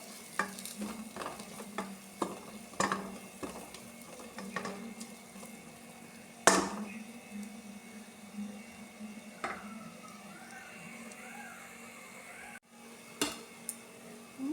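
A spoon scrapes and stirs chilli powder in a frying pan over a quiet sizzle, with intermittent sharp clinks against the metal.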